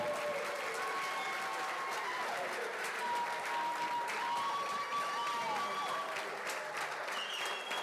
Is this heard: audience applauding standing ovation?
yes